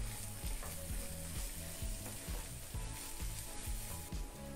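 Coriander powder, red chili powder, garam masala and turmeric sauté in a pan for chole, a soft, steady sizzle with faint stirring under quiet background music.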